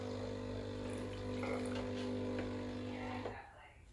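Hot water runs from the tap of a Breville Barista Pro BES878 espresso machine, fed from its boiler, with a steady pumping hum and splashing stream lasting a few seconds before cutting off.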